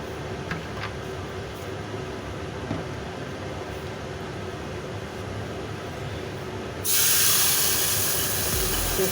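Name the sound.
water-mixed spice paste sizzling in hot oil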